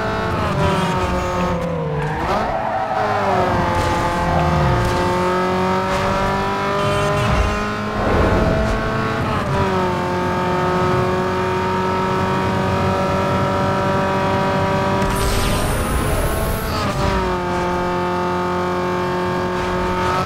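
A Toyota Corolla races in Need for Speed Underground 2, its engine droning loudly and steadily with rising and falling revs through gear shifts, plus a brief tire squeal in the middle of the run.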